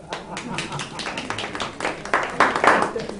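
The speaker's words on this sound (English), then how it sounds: "Give yourselves a hand clap" Scattered hand clapping from a lecture audience comes in uneven bursts, growing louder toward the end, with a voice talking over it.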